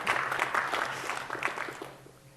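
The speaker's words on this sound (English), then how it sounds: "Yeah, applause." Audience clapping at a technical conference session on building apps with UX platform components, a brief burst of moderate applause from a modest crowd that tapers off quickly.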